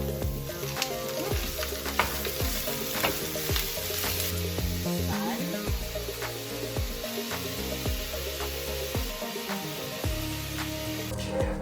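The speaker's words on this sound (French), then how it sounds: "Agora tu pode adicionar a carne e dourar bem ela." Ground meat browns in a frying pan with a constant loud sizzle, while a utensil scrapes and stirs with frequent clinks and knocks against the pan throughout.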